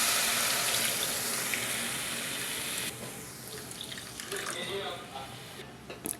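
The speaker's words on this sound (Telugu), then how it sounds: "ఇప్పుడు దీనిలో ఒక అర లీటర్ పాలు వేసుకుందాం" Half a litre of milk is poured into a pan of fried sweet corn, making a steady close rushing splash that thins out and turns into softer, uneven trickling and dribbles toward the end.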